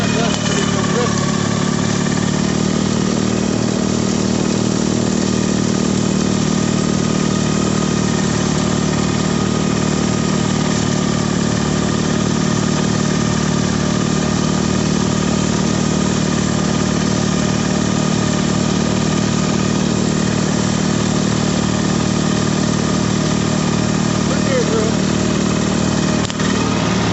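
A loader engine runs loud and steady in winter snow, a continuous close mechanical drone with a rhythmic idling pulse and no clear talk over it.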